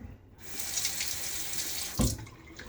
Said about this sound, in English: So this razor does seem to be rinsing well, you know, and clearing of the soap and hair.